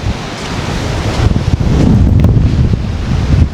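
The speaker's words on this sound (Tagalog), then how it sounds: "Ang lakas ng hangin." Loud wind buffeting the microphone on a beach on Natangco Island, Marinduque, with the wash of surf rolling underneath, continuous and rough with gusts growing stronger midway.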